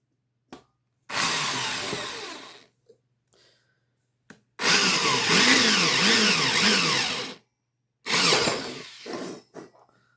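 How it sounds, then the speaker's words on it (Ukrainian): Cordless screwdriver driving screws into a homemade grow-light fixture, heard as three loud, close bursts of whirring motor, each lasting one to three seconds, separated by short silences with small clicks. "тепер ми беремо шурупокрут, і тепер будемо намагатися його плотненько так"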